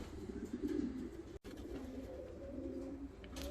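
Large-bodied show pigeons coo in low, rolling murmurs, close and steady, with a brief break partway through.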